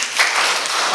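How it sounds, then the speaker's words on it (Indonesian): Brief burst of applause from an audience at a classroom presentation in Indonesia, a short wash of clapping lasting about a second. "Tepuk tangan."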